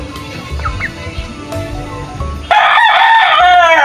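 Backyard class A rooster of green-legged hatch bloodline crowing loudly and close in the last second and a half, after a low murmur of background noise.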